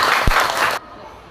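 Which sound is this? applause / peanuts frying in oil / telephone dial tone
applause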